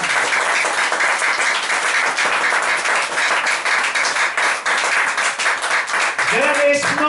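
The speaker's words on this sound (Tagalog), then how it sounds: "Ulang yung palakpak na yan!" Congregation at a sermon breaking into loud, sustained applause, dense clapping filling the space, before a speaking voice cuts in at the very end.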